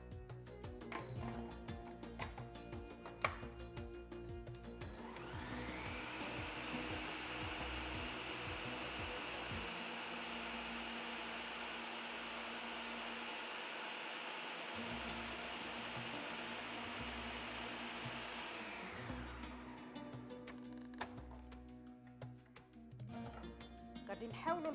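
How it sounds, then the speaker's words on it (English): A food processor grinds almonds into a fine texture, giving a steady, loud whirring drone that runs for most of the stretch, with clinks of kitchenware before and after. "We want a fine texture, so I will continue processing the almonds."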